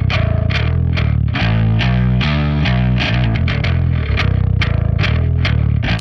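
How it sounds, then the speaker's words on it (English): A distorted rock bass guitar amp tone with high-frequency distortion and a bright, gritty high end plays a steady, busy riff, loud and continuous with sharp note attacks. "This is a third amp sound, more of a high frequency distortion."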